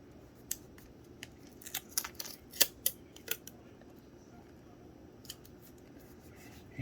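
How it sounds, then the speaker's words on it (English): Small scissors snip a paper label for a paint jar with several crisp, close cuts in an irregular cluster, then a couple of quieter snips after a pause, in an otherwise quiet room. "I am going to cut it"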